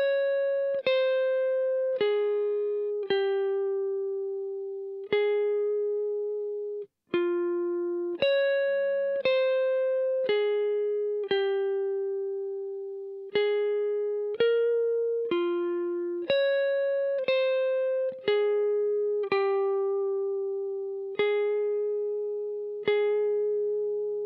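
An electric guitar with dotted-eighth delay, reverb and boost picks a slow melody of single clean notes, each ringing out with a long sustain and soft echoing repeats.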